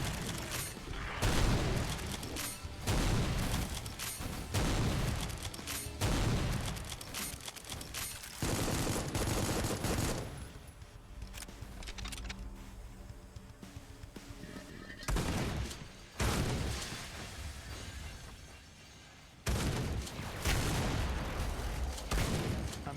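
Repeated shotgun blasts in the horror video game Supplice, loud bursts spaced across the stretch with a quieter gap in the middle, mixed with game effects and a player talking over them.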